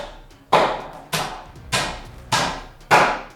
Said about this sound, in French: Ben, c'est des bons marteaux, ça, là.